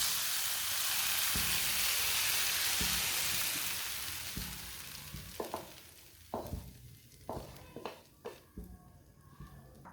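Semolina and gram flour hit hot oil in a pan and start cooking, a loud, dense sizzle that gradually fades. It gives way to rhythmic scraping and clacks of a spoon stirring the thickening mixture.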